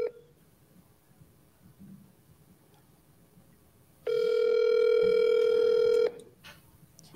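A telephone dial tone sounds steadily for about two seconds while a call is dialed, a loud, clear, close tone that stops abruptly, with quiet room noise and faint handling sounds before and after.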